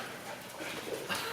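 Dogs barking and whimpering, a noisy muffled outburst of yips and whines that rises briefly near the end, moderately loud.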